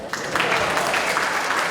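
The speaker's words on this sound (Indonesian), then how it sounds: "Tepuk tangan." A crowd claps in a dense, steady patter of many hands, lasting the whole moment without a break.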